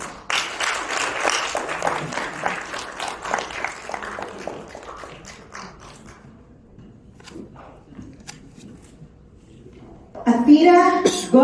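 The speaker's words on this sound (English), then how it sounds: "Let us welcome contestant number 5 with a round of applause." An audience at an international speech contest applauds to welcome a contestant, loud sustained clapping that thins and fades out over several seconds, leaving near silence before a voice begins speaking.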